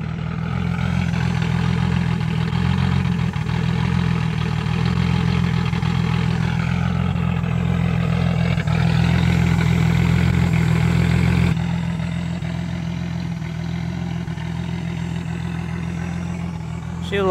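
A turbocharged car engine idles steadily up close with a low, even rumble, and its tone shifts slightly partway through.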